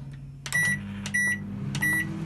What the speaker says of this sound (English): my microwave's just dinged again